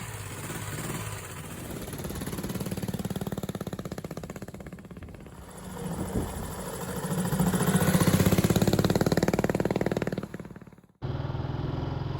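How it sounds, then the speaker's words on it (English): A Matchless G50 500cc overhead-cam racing motorcycle engine runs with a steady, rasping drone that swells louder in the middle, cuts off abruptly near the end and then resumes. "The Matchless G50 was a 500cc overhead cam racer"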